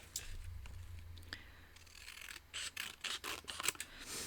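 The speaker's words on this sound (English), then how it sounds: "I do need to snip it down a little bit so it actually fits." Scissors snip through paper while trimming a Christmas card panel from a cardmaking kit, a run of close, crisp cuts clustered toward the end after a soft rustle of handling.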